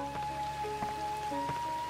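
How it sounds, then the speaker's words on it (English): Steady rain hisses in a forest level of the video game Dark Cloud 2, a dense continuous patter over sustained in-game music tones and occasional soft thuds. "Also, it's raining. This just happens sometimes."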